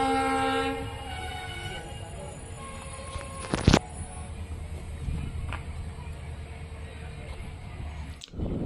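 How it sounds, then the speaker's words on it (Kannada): A train pulls out of Shivamogga railway station toward Shivamogga Town, with a steady low rumble and tonal whine at first, then sharp metallic clanks midway and near the end. "9 ಗಂಟೆ 46 ನಿಮಿಷಕ್ಕೆ ಶಿವಮೊಗ್ಗ ರೈಲ್ವೆ ಸ್ಟೇಷನಿಂದ ನಮ್ಮ ಟ್ರೈನ್ ಹೊರಟಿದೆ"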